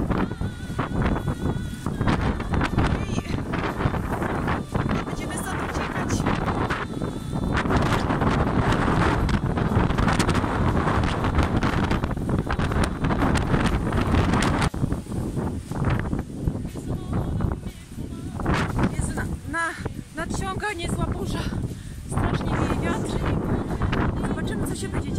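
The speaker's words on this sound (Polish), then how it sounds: "strasznie wieje wiatr" Strong wind buffets the microphone in heavy, rumbling gusts throughout on the island of Procida as a storm approaches, with a voice speaking intermittently beneath the roar.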